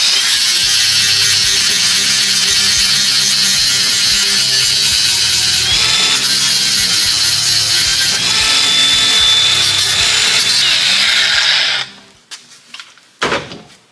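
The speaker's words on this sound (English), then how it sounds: "I'm just gonna go till like the aluminum starts getting polished off." Flap disc on a grinder working the aluminum around a broken bolt, a continuous harsh high-pitched grinding with pulsing contact, loud and close, then stopping abruptly near the end with a few clunks.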